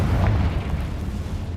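A Confringo blasting spell going off in the Hogwarts Legacy video game: a single deep, rumbling explosion that booms at the start, then decays into a fading low roar.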